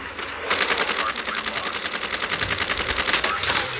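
Rapid automatic M4 fire in Call of Duty, a steady fast rattle of shots sustained for several seconds with a voice talking underneath.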